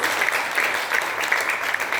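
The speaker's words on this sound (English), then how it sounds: "A round of applause for them, please." Audience applause at a Fabelle chocolate event featuring cricketer Dinesh Karthik, a steady dense clapping wash that stays loud and even for the whole span with no voices on top.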